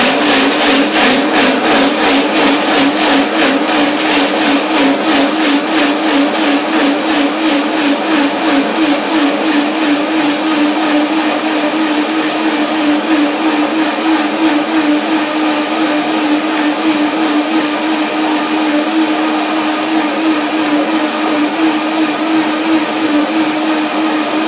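A countertop blender whirs steadily, blending apple, pear, flax seed and granola; the loud motor whine pulses roughly at first, then settles into a smoother, even drone throughout.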